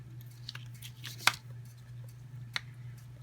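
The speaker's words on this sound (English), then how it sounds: "we're just going to take and cut that off and give it a nice little edge" Two soft, crisp snips of scissors cutting through crinkle ribbon, one early and one a bit later, quiet and close over a low steady hum.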